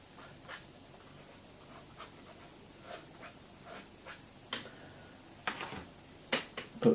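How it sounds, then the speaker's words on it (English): A pen scratches across note paper in short, faint strokes, close and quiet, with small taps and pauses between marks and no voices. "I'm going to write some secret stuff now."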